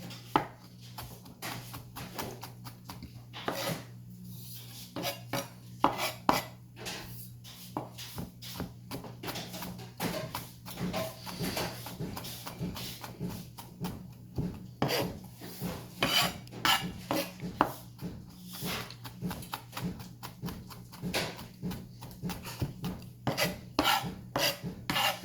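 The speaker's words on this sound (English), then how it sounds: "we're gonna mince it up anyway" A kitchen knife minces ingredients for picadillo, giving rapid, irregular scraping and tapping against a cutting board at close range, with faint clinks and a low steady hum underneath.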